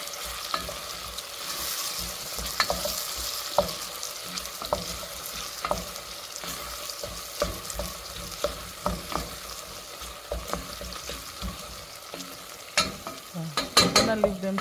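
Onions fry in a pan with a steady sizzle, while a utensil stirs and scrapes at intervals, with a louder clatter of stirring near the end.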